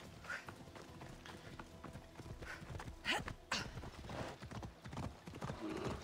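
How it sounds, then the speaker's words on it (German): A horse in Assassin's Creed Odyssey clip-clops along with rhythmic hoofbeats and a brief whinny, fairly quiet and fading in and out. "Wo ist mein Pferd?"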